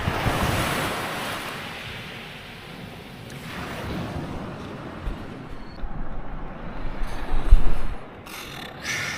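Steady roar of surf rolling in, broad and continuous, with gusts of wind buffeting the microphone and a few louder wave swells toward the end.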